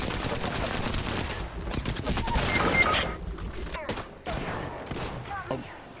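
Dense automatic gunfire from the Apex Legends battle royale rattles in rapid, overlapping bursts for the first few seconds, then thins into scattered shots, with a player's voice speaking over it.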